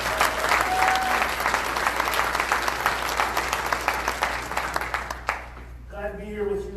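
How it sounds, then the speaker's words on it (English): A crowd at a parenting gathering claps loudly and continuously for foster, adoptive and kinship parents, the applause fading out near the end as a voice begins talking. "How about a round of applause for all you foster,"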